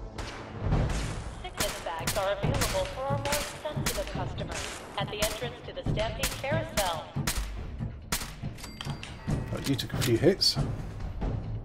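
Rapid turret gunfire in Fallout 4, dense bursts of shots ringing out almost continuously at close range, with someone talking over the shooting.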